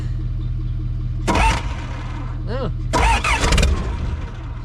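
A cold, iced-up engine with the choke in use cranks in two bursts, each a loud churning roar, separated by a short whine; a steady low hum runs underneath throughout.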